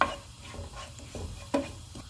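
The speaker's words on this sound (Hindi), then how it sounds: "ऑयल गर्म हो गया, इसमें ज़ीरा डाल देंगे और ज़ीरे को हम 1 मिनट तक फ्राई करेंगे" Cumin seeds frying in hot oil in a pan give a low, steady sizzle with faint stirring scrapes, one sharper clatter near the end, no voices.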